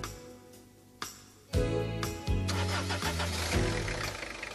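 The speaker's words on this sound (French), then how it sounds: "Dès que le moteur tourne" A Peugeot Citroën diesel engine with a Bosch VP36 injection pump cranks with a few short bursts, catches, and runs with a loud, rough, steady clatter, close up and without speech.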